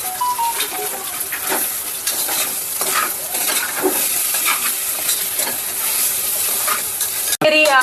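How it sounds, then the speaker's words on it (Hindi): Greens and potatoes cooking in a pan on a home stove, with a second pan of potatoes seasoned with black pepper, giving a steady close sizzle and frying hiss broken by occasional scraping stirs and light utensil clinks. "एक पे तो बन रहा है हमारा साग और आलू, और एक पे बन रहा है राज के लिए आलू।"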